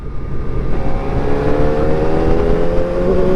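A 400cc superbike engine revs hard while overtaking slow traffic after a downshift, its high-pitched whine climbing steadily in pitch, loud and continuous and close throughout with no talk.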